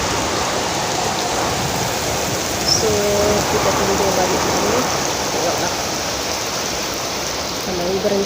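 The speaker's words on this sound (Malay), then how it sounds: "Hujan lebat guys." Heavy rain pouring steadily in a forest behind a house, a dense continuous hiss with occasional faint voices underneath.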